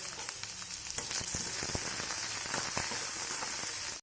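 Onions sizzle and fry steadily in a pan with ginger garlic paste for carrot rice, giving a dense continuous crackle with small pops, close and even throughout, no voices.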